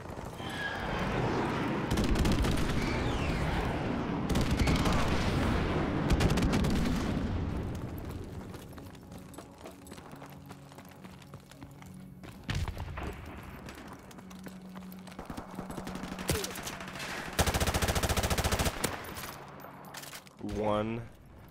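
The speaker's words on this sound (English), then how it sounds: "One hit marker out of all of those shots." Gunfire in a Modern Warfare Remastered match, loud bursts of shots and blasts recurring through the stretch, mixed with game sounds and under a player's talk.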